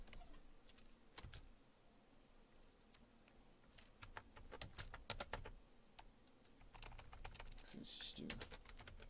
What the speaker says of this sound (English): I'm a super slow typer.